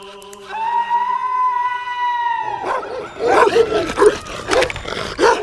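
Dogs near a pottery workshop in rural Iran, heard first as a long whine or whimper and then as a burst of loud, overlapping barks and yips close by.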